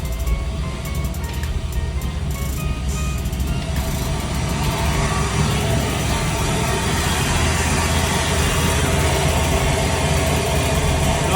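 An LS-swapped engine idles steadily with its power steering running, a dense low rumble holding close and even throughout with no talk over it.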